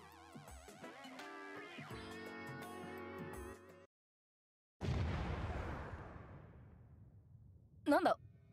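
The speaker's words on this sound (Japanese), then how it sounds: "なんだ、爆発音" A sudden explosion in the Durarara! vs To Aru Majutsu No Index video game bursts in after a brief silence, a loud broad blast that decays slowly into a rumbling tail, followed by a short spoken reaction near the end.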